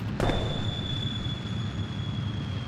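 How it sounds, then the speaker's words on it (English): A firework is launched in the space game Kerbal Space Program, with a sudden burst over a steady rumbling drone and a thin sustained whine. No voices are heard. "let's go ahead and launch a firework"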